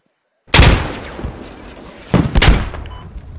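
A frag grenade explodes in the military shooter game Squad: silence, then a sudden loud close blast with a rumbling tail, followed by a second burst of booming impacts about a second and a half later.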